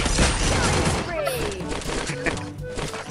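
Rapid gunfire in a Free Fire mobile battle royale match, with bursts of shots and impacts layered under excited players talking.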